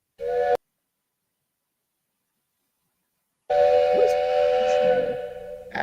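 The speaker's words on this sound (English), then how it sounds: "It says train whistle." A steam train whistle sounds twice: a brief toot, a few seconds of silence, then a long sustained hooting blast with hiss that tapers off at the end.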